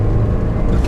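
A GM truck with around 125,000 miles, its engine droning loud and close as it pulls under power, a steady low rumble with no talking.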